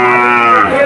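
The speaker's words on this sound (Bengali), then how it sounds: "একটা গরুর হাট, বিভিন্ন রকমের গরু এই হাটে দেখা যায়।" Cattle lowing at a busy cattle market, a single loud, sustained moo that holds close and strong for about a second, with no talk over it.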